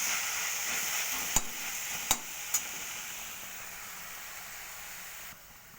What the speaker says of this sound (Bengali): এবার একটু নেড়ে দিতে হবে, কারণ নিচে যদি পেঁয়াজটা ভাজা অবস্থায় রয়েছে